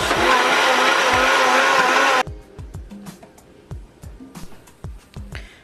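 A blender whirs loudly as it mixes coffee with coconut milk, a dense roar lasting about two seconds before cutting off abruptly, leaving only the background music beat.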